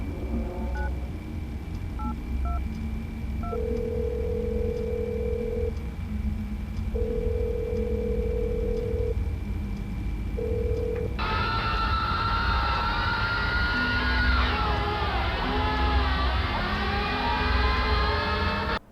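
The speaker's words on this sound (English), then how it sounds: "If you enter the numbers 1996 into the phone, you can hear the screams" Telephone keypad tones are dialed in the horror video game Showman's: The Awakening, a few steady beeps over a constant hum, followed by a dense wash of distant, overlapping screams lasting several seconds.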